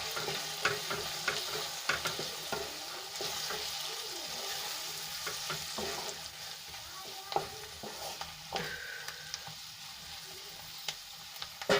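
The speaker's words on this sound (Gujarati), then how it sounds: "અહીંયા જે આપણે મસાલો બનાવીને રાખ્યો છે એ આપણે એડ કરી લઈશું અને સરસ રીતે આપણે મિક્સ કરી લઈશું" Spice masala being mixed into tindora (ivy gourd) curry frying in a pan, with soft, irregular scrapes and taps of a spoon over a gentle, continuous sizzle, quiet and close.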